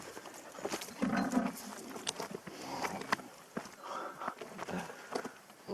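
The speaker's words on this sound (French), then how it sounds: "Les cochons." Pigs on a farm in Greece give short, scattered grunts and snorts, heard at moderate distance along with intermittent clatter and shuffling.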